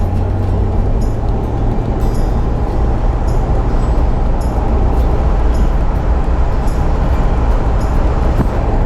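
A 1996-2000 Toyota 4Runner driving, a steady low road rumble and engine drone with tire noise and occasional faint rattles, continuous and fairly loud.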